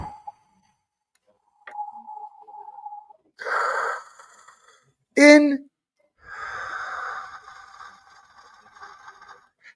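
A voice imitates wind with breathy, drawn-out whooshing exhalations that come in several separate bursts, each swelling and fading, between short pauses of near silence.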